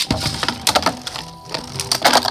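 3D printed Beyblade tops clash in a battle, a burst of sharp, rapid plastic impacts and scraping hits, loud and close, with no talking.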